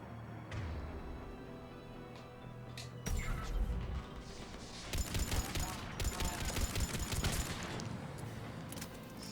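Gunfire and impacts in a firefight in Mass Effect: Legendary Edition, dense bursts of shots and crashes over a busy game background, loudest in the second half.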